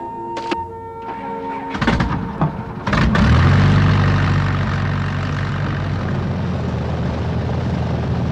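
A few knocks and clunks, then an early Wright Brothers-era propeller airplane engine catches and settles into a loud, steady droning roar close by.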